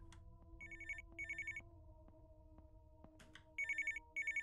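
A telephone rings in a horror video game, with electronic trilling bursts repeating in a steady rhythm over a quiet, eerie ambient hum and occasional faint clicks.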